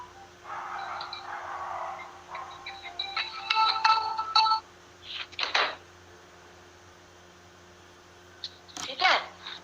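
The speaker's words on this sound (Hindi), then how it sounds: "कौन बरबर फोन कर रहा है?" A phone ringtone sounds during a geography lecture, with a tonal ringing pattern in the first half and brief bursts of other sound later.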